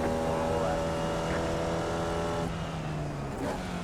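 A race car engine in the iRacing simulator screams at high, steady revs through a timed lap, its loud whine dipping briefly as the car shifts or lifts before climbing again.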